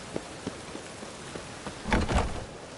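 Rain in The Witcher 3: Wild Hunt, soft steady patter with scattered drops and a denser burst of splashes near the end.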